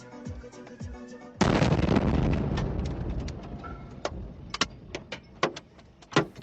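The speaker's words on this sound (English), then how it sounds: "That's the sound of debris raining down on the car roof." A sudden loud rushing roar from a missile strike explosion in Ukraine, then scattered sharp knocks and clatters of debris striking a car roof, irregular and close.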